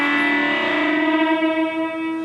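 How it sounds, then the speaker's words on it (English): A single sustained, distorted electric guitar unison bend rings out loud and steady, rich in harmonics, with a slight wavering as it holds and fades a little. "I'm going to put some distortion on here so that you can hear how it sounds"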